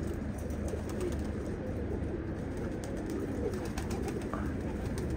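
Pigeons coo in a loft setting, a steady low murmuring of several birds close by, continuous throughout with no talk over it.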